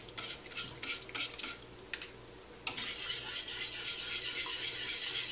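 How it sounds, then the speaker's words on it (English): A utensil scrapes and clinks against a pan, breaking up cream cheese in pineapple juice, first in quick separate taps, then in a continuous loud scraping stir, close and without talk. "break up the cream cheese, and it's going to melt."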